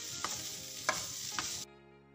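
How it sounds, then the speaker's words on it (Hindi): Spiced chicken kachori filling is stirred in a pan, with three distinct scraping strokes over a soft sizzle before the sound cuts off. "अब मैं इसको अच्छी तरह से मिक्स करने के बाद चूल्हे को बंद करके इसको ठंडा होने के लिए रख दूंगी"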